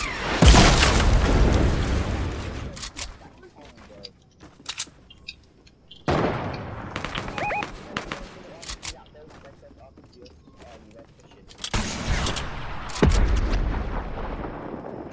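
RPG rocket launches and heavy explosions in an arena shooter video game, several loud booming blasts in bursts with quieter gaps between them, and voices talking over the action.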